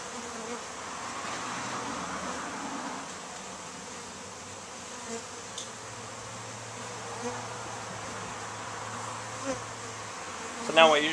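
Honey bees from newly arrived packages swarm around a new hive in Denison, Texas, making a steady, dense outdoor buzz with a low drone running throughout and a few brief louder passes close by.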